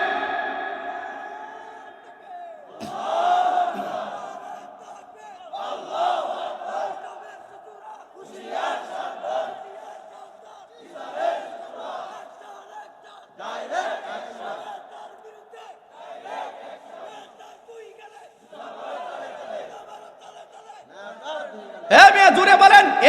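A large crowd loudly chants the takbir (Allahu Akbar) in repeated rhythmic bursts with short pauses between calls, swelling to a louder roar at the end.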